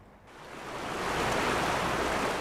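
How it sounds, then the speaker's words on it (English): Rushing water of Bear Creek in Kittredge swells in within the first moment and then flows on as a steady, broad roar, close and continuous. "Oh my gosh, the sound of the creek, like just relaxing by it."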